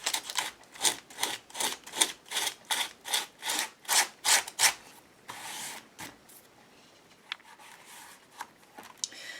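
Sandpaper rubs across a model building in about a dozen brisk, rhythmic back-and-forth strokes, close and scratchy, then gives way to a few lighter, scattered scrapes and taps.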